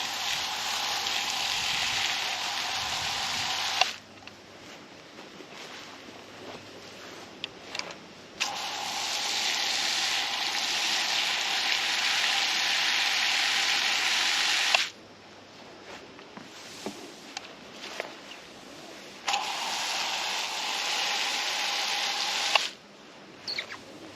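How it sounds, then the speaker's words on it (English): A garden hose sprays water over newly planted agati, calamondin and pepperberry plants in a loud steady hiss, running in long bursts that stop and restart several times, close by with no talk. "being newly planted, I'm going to give them all a good spray."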